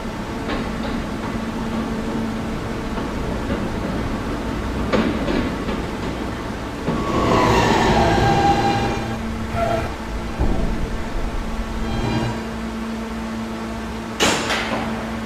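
Kawasaki R160 subway E train with Siemens propulsion running on the track, a steady rumbling drone with tonal motor whine, rising to a louder rattling, screeching passage midway and a sharp clank near the end; no talk.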